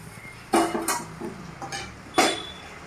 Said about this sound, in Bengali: এবার আমি সেটাকে ঢাকনাটা তুলে দেব, তুলে দেখবো কতটা কি হয়েছে।